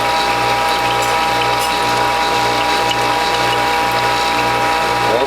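A Norwalk juicer's press mechanism being advanced while pressing juice, giving a steady mechanical ratcheting and gear whir with a regular pulsing rhythm, loud and close, alone without talk.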